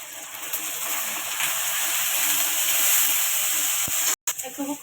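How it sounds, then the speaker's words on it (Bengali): Water goes into a pan of frying spice mix with chili powder and turmeric, making a sustained steamy hiss and sizzle that holds steady for several seconds, then cuts off abruptly before a little faint bubbling. "এবার আমি জল ঢেলে দেবো, মশলাটা ভালো করে কষিয়ে নেবো"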